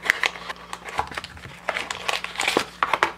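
Crumpled paper user manuals from an Apple 8-pin connector box being handled, with close, repeated crinkling and rustling bursts in quick succession and no talking.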